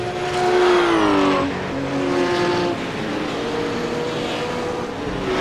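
Race car engine roaring during a race at Road Atlanta, loud and close, with pitch shifting as it accelerates and passes; a steady, continuous drone throughout with no talking.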